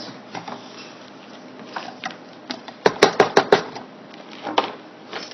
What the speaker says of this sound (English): I'm going to mix this just a little bit before I add any sort of liquid to it.